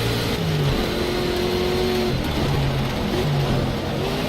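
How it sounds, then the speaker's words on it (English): A Ford Mustang's engine drones and revs steadily throughout a racing video game, its low harmonic tones rising and falling with throttle, loud and continuous with no talk over it. "Wow, does it have a nice noise. As Mustangs tend to do."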